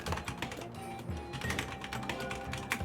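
A voice imitates a computer keyboard being typed on: quick, irregular clicky taps repeat steadily for about three seconds at moderate loudness.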